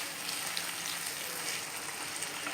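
Masala for chicken korma fries in oil in a pan, a steady, dense sizzle that holds evenly throughout with no voices.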